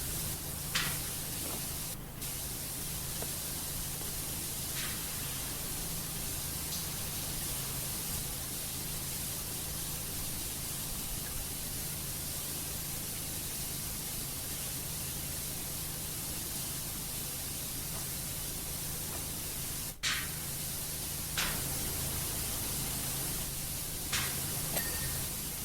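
Continuous broadband hiss of a pressure washer spraying a panel in Powerwash Simulator, steady and unbroken throughout, with a few faint short pings scattered over the top.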